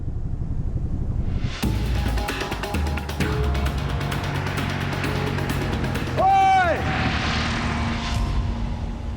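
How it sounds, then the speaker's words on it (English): A small spotter plane flies over remote Australian outback wilderness, its engine drone running steadily through the scene with a swelling, pitch-bending pass near the end, while people shout and talk over it. "A spotter plane is heading straight for Theo."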